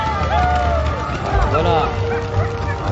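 Excited sled dogs bark and yip at the start of a mushing race stage at Megève, a dense overlapping chorus amid crowd babble and a commentator's voice throughout.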